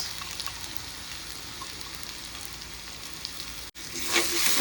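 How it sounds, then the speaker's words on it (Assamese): Onion, ginger paste, bay leaf and whole garam masala frying in a pan over a strong gas flame, a dense continuous sizzle with a brief dropout near the end and then a louder burst of hissing. "ভালকৈ লৰাই ল'ম।"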